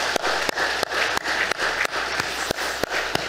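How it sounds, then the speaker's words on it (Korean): A church congregation applauds together, a steady wash of clapping with a few sharper, louder claps standing out at roughly regular intervals. "그렇게 우리 공동체를 지켜주신 우리 하나님께 박수로 감사드리겠습니다"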